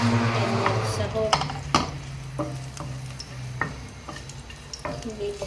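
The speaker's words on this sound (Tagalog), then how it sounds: "At ilagay ko na ang bawang. Gigisa ko." Garlic sautéing in a pan for a home-cooked lunch, with a steady close sizzle broken by sharp clicks and scrapes of a utensil against the pan, and a low hum underneath.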